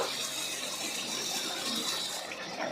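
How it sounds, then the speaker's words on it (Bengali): Reserved coriander water poured into a chicken curry, a steady close splash and gush of liquid running continuously without any talk. "আমরা যে ধনের জলটা বের করে রেখেছিলাম ওইটা দিয়ে দেব"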